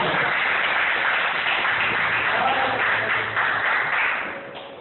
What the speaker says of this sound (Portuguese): Uma salva de palmas para Jesus Cristo.